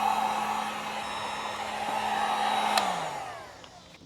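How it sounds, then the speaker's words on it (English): A heat gun melts sound deadening material inside a Nissan S15 Silvia, giving a steady, close airy roar with a faint whine that holds for about three seconds and then winds down to quiet. "Obviously be careful where you point the heat gun. Don't burn yourself. It does take a little while to melt, so you just gotta keep on it,"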